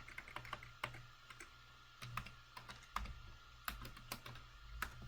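Quick, quiet bursts of keystrokes clatter on a computer keyboard as a file is renamed, irregular taps clustered in short runs and heard close with no voices.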